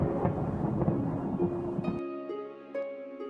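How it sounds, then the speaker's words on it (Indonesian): A deep, rumbling thunder crash rolls through a storm, loud and broad at first, then cuts off abruptly, leaving a quieter tonal wash with a few faint knocks. "Lalu sambaran petir yang menggelagar."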